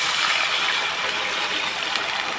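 Water is poured into a cooking pan while ajwain upma is being made, giving a steady, close, even rushing splash that lasts throughout without pause.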